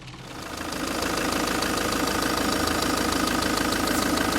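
A Ford Mondeo MK4 engine idles close by with a steady, even rumble and fine rhythmic ticking, loud and unbroken once it settles after the first second.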